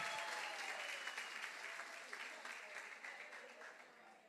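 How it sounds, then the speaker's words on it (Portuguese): A church congregation gives a sustained round of applause honouring a woman standing among them, a dense, even wash of clapping that slowly fades toward the end. "Dê uma salva de palmas de verdade para essa mulher."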